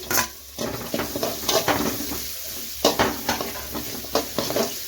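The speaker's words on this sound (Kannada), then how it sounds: "ಒಂದು ದೊಡ್ಡ ಸೈಜು ಈರುಳ್ಳಿನ ಈ ರೀತಿ ಚಿಕ್ಕದಾಗಿ ಕಟ್ ಮಾಡಿ ಸೇರಿಸ್ತಾ ಇದ್ದೀನಿ" Chopped large onion frying in a pan, with a steady sizzle under repeated stirring scrapes and light clinks of a utensil against the pan.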